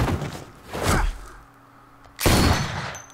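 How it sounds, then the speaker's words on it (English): Three sharp, loud bursts of gunfire ring out in The Walking Dead Season 3 game, separated by short, quieter gaps. "I hear gunfire."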